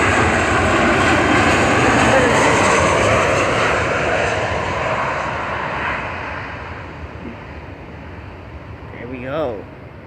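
An airplane engine drones steadily overhead as it passes, loud at first and slowly fading into the distance, with a brief sharper sound near the end.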